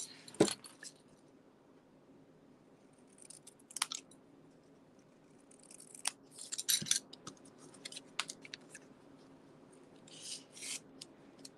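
Paper being snipped with scissors while trimming a piece for a handmade fancy-fold card, a few scattered crisp cuts and rustles, close and fairly quiet, with no talking.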